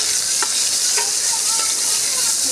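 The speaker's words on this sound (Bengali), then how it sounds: "পেঁয়াজ আর কাঁচা লঙ্কা কুচানো দিয়ে দিলাম তেলের মধ্যে" Chopped onions and green chillies fry in hot oil with cloves and cardamom, a loud steady close sizzle with a few faint scraping stirs.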